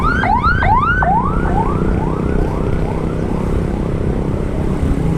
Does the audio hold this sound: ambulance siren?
yes